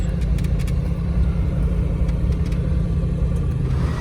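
A 1931 Plymouth P4 suicide-door street rod engine idles steadily at close range, a deep, even rumble with no revving and no voices.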